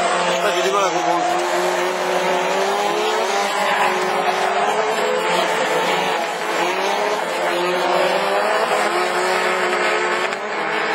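Renault Twingo rallycross cars scream at the rev limiter during a race at Lessay, with a continuous high-pitched engine drone and a bouncing limiter buzz from a distance, with a voice faintly present underneath.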